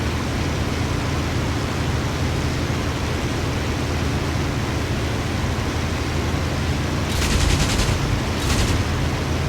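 Spitfire Mk. IXc cannon and machine-gun fire in the flight sim IL-2 Sturmovik, two short bursts near the end of the clip, loud over a steady roaring engine and wind drone.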